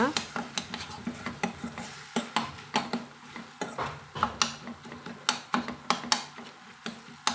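A metal spoon mashes cooked tomatoes in a pan for tomato bajji, making a steady run of quick scraping clinks and taps, about three per second, against a faint low sizzle, with no talking.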